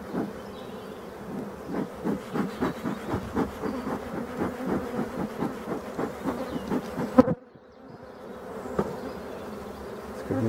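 Honeybees buzz steadily and close during a hive inspection of colony number six in March, a dense droning hum that pulses in rhythm and then drops briefly before resuming.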